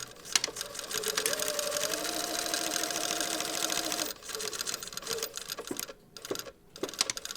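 A sewing machine runs in a steady whirring stitch for about four seconds while a lapped zipper pocket is sewn, then stops, leaving quieter handling noises and brief pauses.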